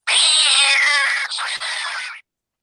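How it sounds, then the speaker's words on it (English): A cat meow sound effect: one long, loud, close meow lasting about two seconds, wavering in pitch before it cuts off into silence. "Is that a cat?"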